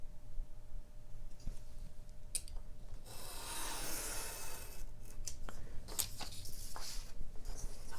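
A blade trims paper cut along a ruler for quilling, a close, dry scraping rasp that swells in the middle and is followed by a few light taps and rustles.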